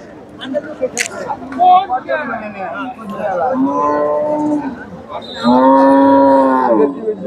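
A black cow at a busy cattle market lets out several loud, drawn-out moos nearby, with people talking in the background between and under the calls.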